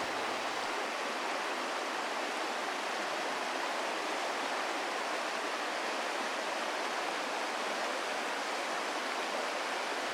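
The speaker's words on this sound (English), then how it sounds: "We listen to the soothing white noise of the White Mud Creek." Whitemud Creek in Edmonton, Alberta flows steadily, a dense, even hiss of rushing water that holds without a break from start to finish and carries no voices.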